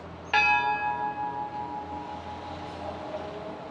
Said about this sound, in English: this bell here that I just rang